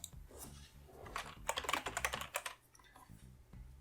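A computer keyboard clatters as a folder path is typed, a quick run of close, crisp key presses that speeds up in the middle and thins out toward the end.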